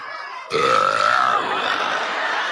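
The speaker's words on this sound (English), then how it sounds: "That's a powerful burp right there." A single loud, drawn-out burp erupts abruptly after a moment of quiet and trails off rough and raspy, close to the mic.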